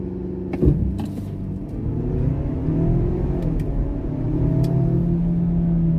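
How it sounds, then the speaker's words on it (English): A 2021 Ford Explorer XLT pulling away hard off the brake in manual shift mode, engine rising in a steady climbing whine and rumble, heard from inside the cabin with brief clicks and no talking. "If you go off the brake, it does accelerate a little quicker."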